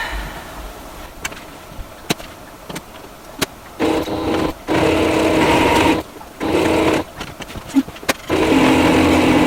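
A home sewing machine stitching an apron, running in several bursts of steady buzzing motor hum with short pauses and clicks between runs.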